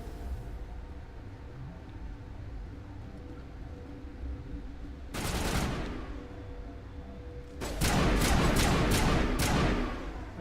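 Enemy gunfire in Mass Effect Legendary Edition, first a short burst of shots midway, then a longer, louder volley of rapid automatic fire over steady game ambience, with no talking.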